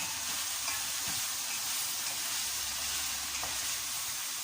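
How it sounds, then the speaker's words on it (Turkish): Green tomatoes and green peppers sautéing in a pan with garden fresh beans, a steady dense sizzle running evenly throughout with faint occasional utensil taps, no talking. "Şimdi hepsini kavuruyorum"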